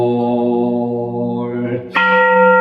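A large Buddhist temple bell rings at dawn in Korea. A long, humming tail of the last stroke fades out before a fresh strike blooms into a loud, sustained, shimmering tone, with no voices.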